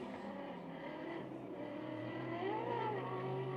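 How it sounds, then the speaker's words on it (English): A McLaren GT race car engine revs up during a GT Asia race at Sepang, its pitch climbing under a steady, fairly distant engine drone with background track noise. "you can hear the revs going up on the McLaren"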